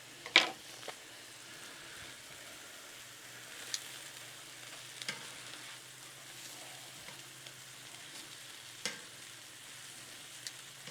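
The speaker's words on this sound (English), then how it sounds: "I'm gonna throw a little more butter down here on the griddle" Butter sizzling on a Blackstone flat-top griddle, a soft, steady frying crackle with a few sharper pops and scrape-like clicks, fairly quiet and with no talking.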